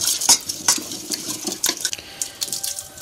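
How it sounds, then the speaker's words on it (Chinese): Pea starch stirred with spring water in a bowl: a close utensil clinks and scrapes against the side in repeated irregular strokes, with some faint liquid swishing and no talking. "将它搅拌均匀"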